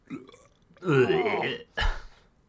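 A character in the Inspector Gadget video game lets out burps, a short croak followed by a long, gurgling belch and then a quick final one, close and clear against silence.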